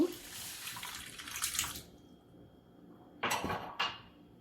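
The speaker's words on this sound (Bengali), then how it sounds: "হাফ কাপ পানি দিয়ে দেব" Half a cup of water is poured into a pan while making fried rice laddu with sugar, heard as a short splashing pour followed by two brief quieter splashes.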